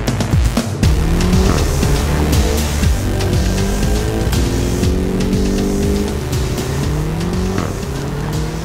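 BMW X5 M F85 (2015) with a twin-turbo engine revs hard to high rpm, a loud, rich roar climbing through repeated rising sweeps with gear changes, heard close over road and tire noise, no voices.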